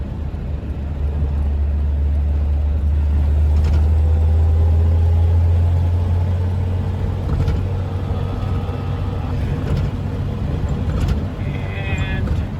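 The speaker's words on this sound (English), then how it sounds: "And a couple of old cars coming up." Old cars pass on a road amid steady, loud low engine rumble that swells around the middle, with faint higher tones drifting through and no talk.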